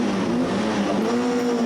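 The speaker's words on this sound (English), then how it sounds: "So the revs are starting to rise now." A historic MGB race car engine revs steadily at the start line of a circuit race, a loud, close, continuous droning tone that climbs gradually in pitch, with no talk over it.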